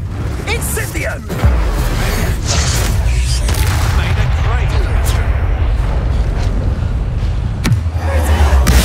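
The Incendio fire spell is cast in Hogwarts Legacy with a heavy booming whoosh and crackling roar amid the din of battle, loud and continuous, with a deep impact near the start and another near the end.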